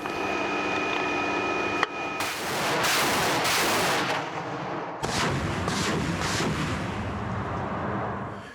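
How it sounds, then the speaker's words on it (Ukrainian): Heavy artillery ranging shots boom close by in a war zone, each blast followed by a long rumbling roar and echo that fills the air, with no talking. "Перші постріли зазвичай пристрілочні."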